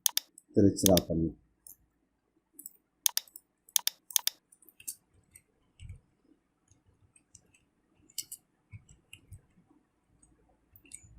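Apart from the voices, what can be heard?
typing on computer keyboard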